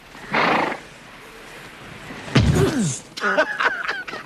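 A horse whinnies loudly in a film scene, a short burst early on, then a louder descending neigh followed by quick clopping hooves and rustle, close and clear with no talk.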